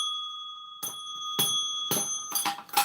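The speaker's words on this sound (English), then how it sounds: "I'll ring a bell to that shit too." A small bicycle-style bell is rung several times in quick succession, each bright metallic ding ringing on close and clear.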